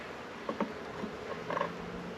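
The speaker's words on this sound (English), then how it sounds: "Got some guard bees coming up saying howdy." Guard honey bees at a new hive's entrance buzz in short, faint bursts close to the microphone, rising and fading against a quiet outdoor background.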